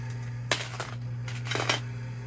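Two brief bursts of coins clinking and rattling as they drop in a coin pusher machine, over a steady low mechanical hum.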